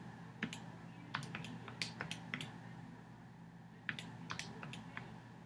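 Calculator keys are pressed in scattered bursts of small, sharp clicks, close but quiet over a faint steady hum, with no speech.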